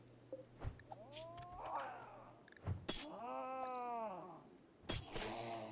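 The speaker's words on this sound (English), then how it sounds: "It is making very cat-like sounds though." A griffin creature in the medieval fantasy Rimworld game lets out drawn-out, cat-like meows and caterwauls, several rising and falling wails spaced across the moment, fairly close, with brief sharp clicks between them.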